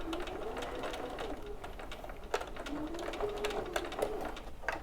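A sewing machine runs steadily at moderate volume, stitching bias piping onto a bag panel, with a continuous whirring hum and a few faint clicks, no talking.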